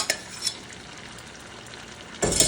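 Sweet pongal with jaggery is stirred and boiled in a clay pot over a wood fire, a soft bubbling simmer with a few scraping stirs near the start and a louder scrape at the end.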